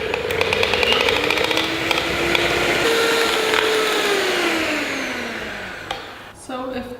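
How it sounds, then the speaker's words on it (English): Electric hand mixer whirring steadily as it beats egg white with a pinch of salt, a continuous motor drone whose pitch slowly drops under load, then briefly stops and restarts near the end. "Add a pinch of salt to the egg white. And then just beat it up until it gets stiff."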